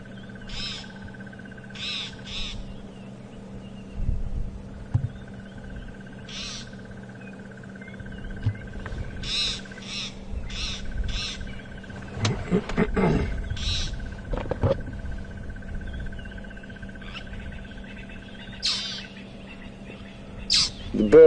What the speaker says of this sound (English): a magpie shrike, and that's one of the birds you can hear calling now